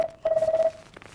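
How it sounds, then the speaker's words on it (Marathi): A telephone rings with a single short electronic tone burst, fairly clear and close, followed by brief faint background noise. "फोन."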